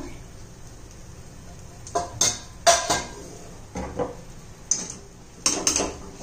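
Chana masala spices being sautéed in a pan at home, heard as sparse metallic scrapes and clinks of a spoon stirring against the pan over a quiet, faint background.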